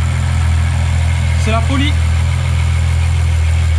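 A Ferrari 812's mid-mounted 6.5-litre naturally aspirated V12 idles from inside the cabin, a steady, deep, close rumble that runs unbroken under a brief spoken remark.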